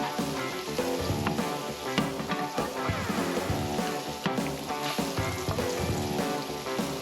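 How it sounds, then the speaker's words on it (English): Fish fillets crisp in a hot pan, a steady dense sizzle that fills the whole stretch, close and fairly loud, with occasional clinks of a utensil moving the pieces around. "Just move them around a bit in the pan so they fry nice and even."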